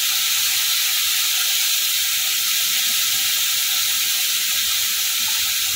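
Ground spice paste sizzling and frying in a pan with tempered spices for dry masala bhindi, a steady loud bright hiss of hot oil running throughout with no talking.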